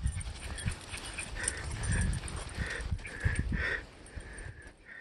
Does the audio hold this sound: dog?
yes